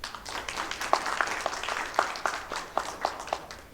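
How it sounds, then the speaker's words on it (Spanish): Children in an audience at a book fair talk in Lima clap together, a moderately quiet, loosely rhythmic patter of small hands with several sharper individual claps standing out. "Un aplauso para ustedes."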